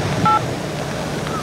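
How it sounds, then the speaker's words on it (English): Telephone keypad dialing tones beep briefly a couple of times, faint against a steady rushing background noise, with no talking. "Let's call John Webster back before we listen to any more marked messages"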